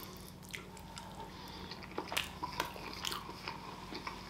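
Someone takes bites of spicy protein quinoa with red bean pieces and sriracha sauce, a vegan, gluten-free dish; soft close chewing and a few small crunches sound over a steady low background hum, with no talking.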